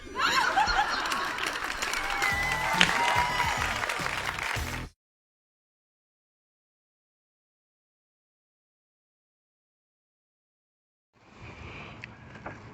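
An audience at a comedy show claps for several seconds with some laughter mixed in, then it cuts to silence, and crowd noise returns briefly near the end.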